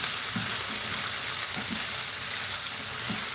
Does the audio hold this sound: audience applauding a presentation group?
no